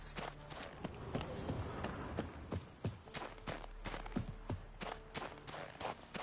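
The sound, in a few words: horse hooves walking slowly in The Witcher 3 video game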